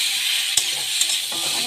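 A pan of curry cooks on a home kitchen stove with a steady, close sizzle and bubbling, broken by two brief clinks of stirring.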